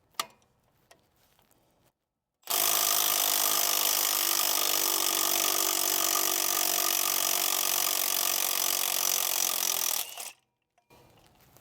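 A power steering pump pulley is worked off the shaft on a 1968 Mercury Cougar with a special puller tool, giving a loud, continuous whirring, grinding mechanical noise that runs for about eight seconds between quiet gaps.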